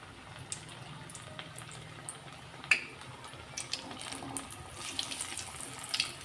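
Fish frying in hot oil in a pan gives a soft, steady sizzle with scattered small pops and crackles, fairly quiet throughout.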